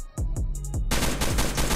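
Gunfire erupts during a raid in Roblox Rust, first a handful of separate loud shots and then dense, rapid bursts that continue close and harsh with no talking.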